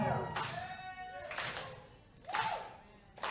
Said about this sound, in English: Does the slow clap make him more powerful?